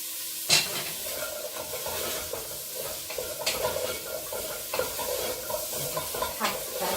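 Carrots tipped into softened onions frying in a pot for Irish beef stew, then stirred, giving a soft sizzle under repeated scraping and stirring strokes with a few sharp clatters, close and fairly quiet.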